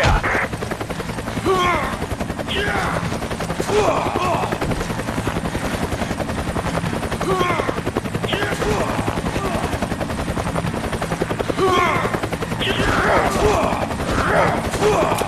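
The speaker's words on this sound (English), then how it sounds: "I can hear gunfire" Gunfire in the video game Resident Evil 5, repeated bursts of rapid shots over a continuous rotor-like drone, with brief spoken lines between the bursts.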